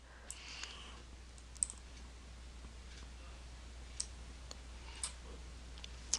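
Faint, sparse computer mouse clicks, single and well spaced, over a steady low hum while working in GRSAT rating software.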